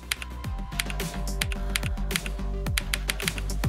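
Keys clack steadily on a Logitech League of Legends K/DA mechanical keyboard, a brisk run of crisp, close-up clicks and taps repeating in an even typing rhythm with no voices.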